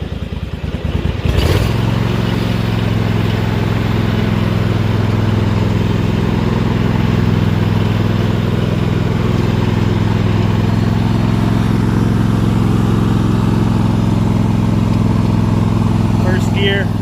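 Small garden tractor engine, recovered after a fire, runs steadily in gear with a loud, even drone and some rattle, after a brief sharp knock at the start.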